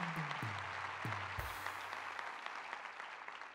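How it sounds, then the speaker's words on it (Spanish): A TV studio audience claps in sustained applause, a dense patter of hands heard from a distance, fairly faint and continuous throughout. "un aplauso para ellos"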